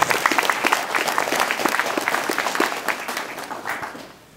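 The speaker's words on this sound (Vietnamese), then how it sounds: "Xin chúng ta cho một tràng pháo tay cho quý đồng bào đồng hương." An audience at a Vietnamese community commemoration event breaks into sustained applause, dense clapping that stays loud for several seconds and then tapers off, with no talking over it.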